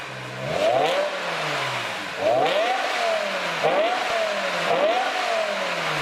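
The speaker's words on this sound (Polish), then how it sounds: "Dla porównania, ostatnie M5, które wychodziło w odmianie Touring, czyli generacja E61, brzmiało tak." A BMW M5 E61 Touring revs its engine through the exhaust in four loud, close bursts. Each rev climbs sharply in pitch, then falls back to a rumbling idle between blips.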